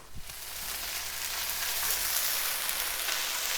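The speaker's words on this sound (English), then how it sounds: "I'm going to have to check that chicken. It's sizzling back there." Chicken sizzles in a hot pan, a steady crackling hiss that builds after a couple of soft knocks and keeps going at an even level.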